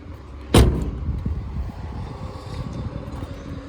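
Car hood released with a single sharp metallic clunk near the start, followed by low rumbling and faint handling noise as the bonnet is lifted.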